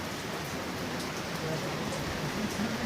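Rain falls steadily outside near a large restaurant on a November evening, a soft continuous hiss of drops on surfaces, fairly faint and even, with a few faint murmurs beneath.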